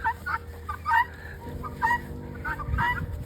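Hens cluck softly in short scattered bursts, a few birds close by, over a low steady background hum.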